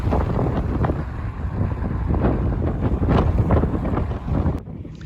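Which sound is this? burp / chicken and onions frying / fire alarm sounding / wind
wind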